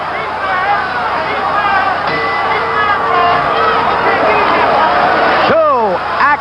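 Boxing crowd at a heavyweight fight between George Foreman and Ron Lyle roars in a constant loud babble under a commentator's continuous talk.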